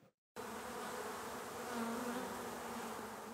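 Honeybees buzzing around wooden beehives at an apiary in Gironde, a dense continuous drone filling the air after a brief silent moment, steady and close.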